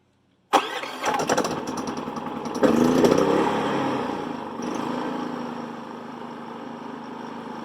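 A Predator 3500 generator engine pulls over and catches with a sudden loud burst, surges briefly, then settles into a steady, close running hum that holds alone to the end.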